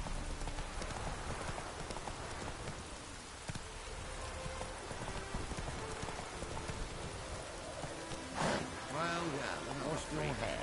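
Roach, a horse in The Witcher game, clip-clops at a slow walk through rain, steady hoofbeats under a wash of rainfall, with a voice speaking over it near the end.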